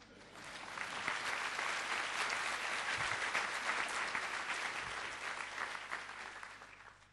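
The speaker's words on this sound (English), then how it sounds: "Give him a round of applause for this." An audience at a medical school white coat ceremony claps steadily, the applause swelling quickly and holding for several seconds before fading slightly toward the end, fairly distant, with no talking.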